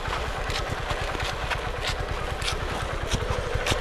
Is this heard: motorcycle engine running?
yes